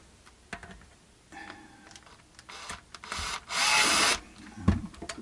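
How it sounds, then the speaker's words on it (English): Screws are driven into a Yamaha Pacifica electric guitar during a pickup upgrade, with scraping, rubbing and creaking of the screwdriver in wood and small clicks, plus a loud burst of grinding near the end, up close with no talk. "Put the second one in just to locate it."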